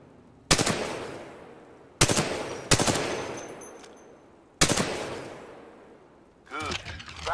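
Titanfall 2 gunfire on a target range, four sharp loud shots spaced a second or two apart, each with a ringing decay, followed by a clatter at the end.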